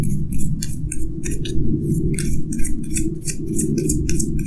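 Tarot cards shuffled and drawn: quick, crisp papery flicks and snaps come in an irregular run over a steady low background hum, close to the listener, with no voices.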